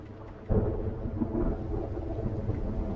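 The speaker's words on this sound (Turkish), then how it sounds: "Baya bir fırtına var ıslandık" A thunderstorm in the video game Project Zomboid: a roll of thunder breaks in suddenly and rumbles on beneath steady rain. The sound is a dense low wash with no speech.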